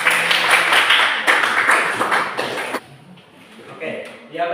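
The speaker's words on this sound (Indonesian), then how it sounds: "Ya, baik, tepuk tangan." Classroom applause, a group of students clapping hands together in a dense, steady patter for nearly three seconds before it stops abruptly, leaving quieter room sounds and faint voices.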